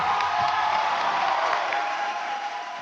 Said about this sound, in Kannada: ಒಳ್ಳೆ ಚಪ್ಪಾಳೆ ಪ್ರೇಮ ಮ್ಯಾಮ್ಗೆ.